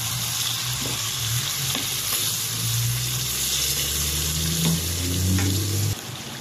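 Chicken afritada with tomato sauce is stirred in a hot pan, giving a loud, continuous sizzle with scraping and clinks from the utensil. The sizzle drops off sharply near the end.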